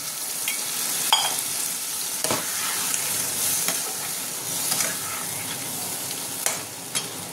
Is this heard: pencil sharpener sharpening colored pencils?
no